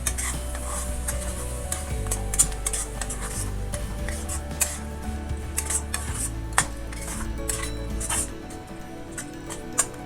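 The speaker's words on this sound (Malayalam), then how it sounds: "ഇനി ഇതിലേക്ക് 1/2 കപ്പ് തൈരും കൂടെ ചേർത്ത് നല്ലതായിട്ട് മിക്സ് ചെയ്യാം" Fish biryani masala being mixed with yogurt in a pot, Kerala style, giving steady close scraping and stirring with frequent sharp clinks of a metal spoon against the pan over a low sizzle.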